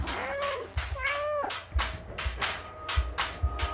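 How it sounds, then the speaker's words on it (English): A cat meows in the video game Stray, giving a few short, clear mews in the first half, followed by soft thumps and light game sounds. "Let's get a meow."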